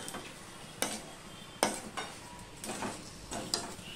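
A spoon stirs sugar and salt into spinach cooking in oil in a pan, soft scraping with a few sharp clinks at irregular intervals over a quiet background.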